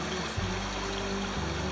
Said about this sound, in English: and that's the creek going down